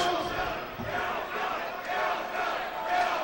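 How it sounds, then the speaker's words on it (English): Crowd at an ACW independent wrestling show in a small venue, a rolling roar of cheering and shouting voices, moderately loud and continuous with swells. "Oh, listen to this crowd in the watering hole."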